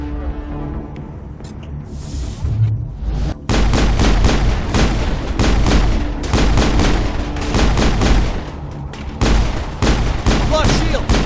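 Heavy gunfire in the Mass Effect video game, a loud and nearly continuous barrage of rapid shots that begins a few seconds in after a quieter stretch.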